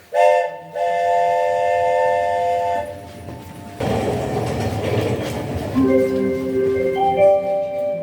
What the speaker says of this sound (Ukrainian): Потяг їде до станції Естрадний майданчик.